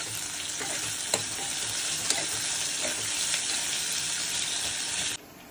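Onions frying in a pan until reddish for a chicken dish, a steady loud sizzle with a few stirring clicks and scrapes, ending abruptly near the close.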